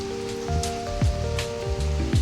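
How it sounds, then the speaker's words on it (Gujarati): Rain falls in a village in a steady, close patter, with soft drops spattering on a surface and faint tones running underneath. "વરસાદ જો મિત્રો, હા"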